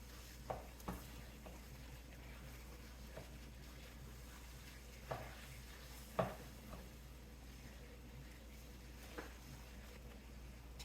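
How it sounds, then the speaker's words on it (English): Eggs are stirred and broken up in a pan over a soft, steady low sizzle, with a few faint spatula taps and scrapes scattered through the quiet background. "I'll let that sit for a second while I stir up the eggs"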